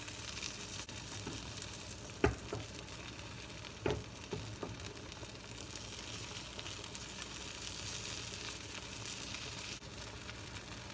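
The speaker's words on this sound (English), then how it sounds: "Gently push cooked portions from edges toward the center with an inverted turner." Eggs cooking in a hot pan for an omelette give a steady, soft sizzle throughout, broken by a few brief scraping knocks of a turner pushing the edges inward, with no talk.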